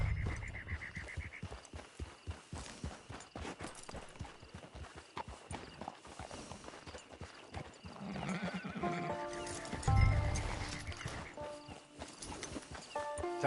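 A horse in a PS4 video game whinnies loudly while its hooves clip-clop at a steady walking rhythm, close and clear, with the neigh rising over the footfalls toward the end.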